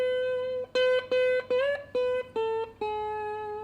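A fretless guitar with a glass fingerboard plays a series of about seven plucked electric notes, each one sharp at the attack and quickly fading, with a short slide between two of them and no sustain.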